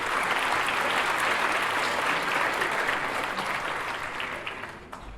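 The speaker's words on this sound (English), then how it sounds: "So could you always give them all a round of applause?" Audience applause at a Thailand tourism forum on lifestyle hotels, a steady wash of many hands clapping from a sizeable crowd, fading slightly near the end.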